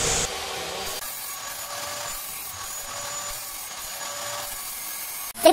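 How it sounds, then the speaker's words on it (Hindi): A hand file rasps along the cut edge of a stainless steel pipe to smooth it, a steady scraping sound that runs continuously for several seconds and ends in a brief louder scrape. "इसके घिसके बराबर कर लेते हैं"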